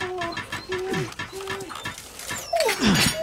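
An injured wolf whimpers in Resident Evil 4 Remake, producing a series of thin, high whines and rising and falling yelps, close and fairly loud over faint game ambience.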